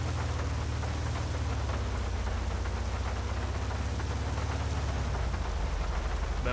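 Steady heavy rain in a driving video game with a Honda Civic VTi hisses throughout, a dense continuous wash with a low rumbling drone underneath, loud and close with no pauses.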